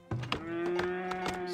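In the colony-building game Farthest Frontier, a cow lets out a long, even low moo after a soft thunk, with faint clicks scattered through it, close and unaccompanied.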